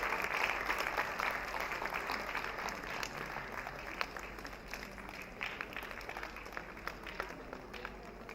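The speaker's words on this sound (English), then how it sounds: "the audience will keep applauding until you arrive" Audience applause at a 2024 ICBF event, a steady dense wash of clapping held at moderate level throughout while a stage holdup continues, with faint murmurs beneath.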